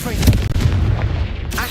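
A Confringo spell explosion in Hogwarts Legacy: a dense, rumbling blast that fills the whole short moment, loud and close, with an exclaimed voice mixed in.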